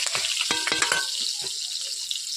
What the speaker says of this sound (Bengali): তেল গরম হয়ে গেছে ওতে আমি কাঁচা লঙ্কা চিড়ে দিয়ে দিয়েছি